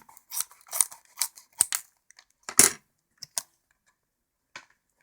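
Scissors snip through stiff plastic packaging of a Halo Mega Bloks toy pack, close by, in a series of short irregular cuts separated by silence.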